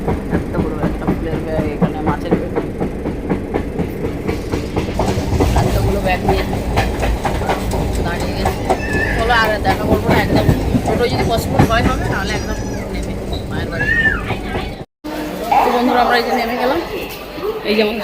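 A passenger train in India rumbles and rattles steadily with clickety-clack, loud and continuous, under chatter and talk from people nearby.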